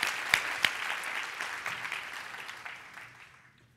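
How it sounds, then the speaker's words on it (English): Audience applause fills a room at a women's leadership speech event, a steady broadband clatter of many hands with a couple of sharp claps near the start, tapering off gradually toward the end. "let's give them a round of applause"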